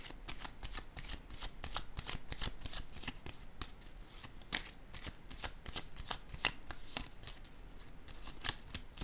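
Playing cards are shuffled and dealt out for a game of patience, with cards laid face down. Rapid crisp riffling and slapping clicks repeat steadily and close by, faint overall, with no talking.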